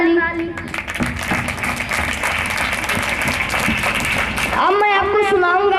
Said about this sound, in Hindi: ठोको भैया ताली